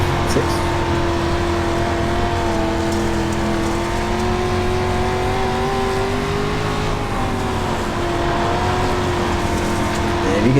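Race car engine heard from a cockpit cam, loud sustained engine roar with pitch rising and falling as the car accelerates through turns, continuous and close, with a commentator talking over it.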